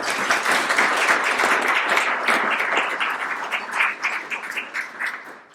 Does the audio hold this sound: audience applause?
yes